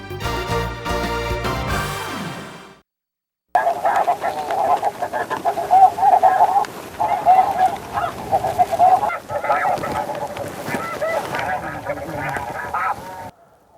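Loud honking from a large flock of snow geese during a guided snow goose hunt, continuous and layered with many overlapping calls. A brief silent cut comes after a short opening passage of a different sound.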